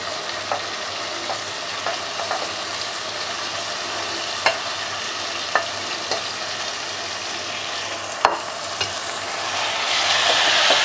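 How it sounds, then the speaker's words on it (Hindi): Round gourd (tinda) fries with tomato, green chilli and spices, giving a continuous sizzle broken by occasional sharp spatula taps on the pan, swelling louder near the end; no voices. "अब हम टिंडे को तब तक अच्छे से भूनेंगे जब तक साइड से तेल अलग ना दिखने लगे"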